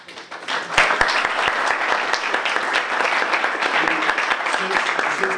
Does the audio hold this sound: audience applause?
yes